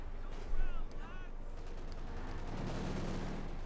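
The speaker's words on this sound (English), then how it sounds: "Another artillery strike." An artillery strike in Company of Heroes 2 lands as a deep boom early on, over a steady rumble of battle noise, distant gunfire and game ambience.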